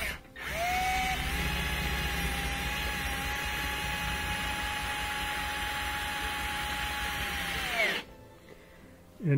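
A power drill drives a screw while a dishwasher is installed, a loud continuous whine held steady for about seven seconds before winding down, followed by a short pause and another start.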